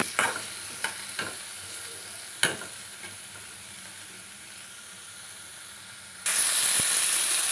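Chopped green chillies and tomatoes fry in a pan with a steady, close sizzle. A few stirring clinks come early, and the hiss swells louder near the end.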